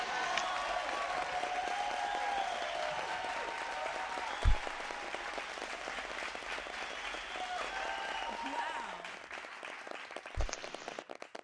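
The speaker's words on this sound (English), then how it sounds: "Let's give all the graduates another round of applause." At a University of Houston College of Education graduation ceremony in 2017, a large audience gives sustained applause that sounds fairly distant and soft, with a couple of sharp knocks and scattered claps as it tapers off.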